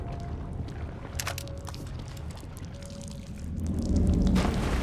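Murky dirty water sloshing and splashing in The Evil Within as a character wades through it, steady watery swishing that grows louder and heavier near the end.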